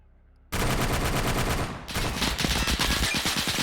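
Sustained automatic machine-gun fire in a Raate Road defense game battle, a dense rapid burst that starts abruptly, briefly dips, then rattles on loud and continuous with layered shots.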